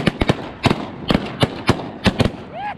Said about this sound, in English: Shoot them, guys.